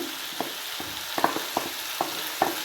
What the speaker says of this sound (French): maintenant je vais mettre le thon dedans, qui fait la touche finale. Et après je le laisse mijoter bien.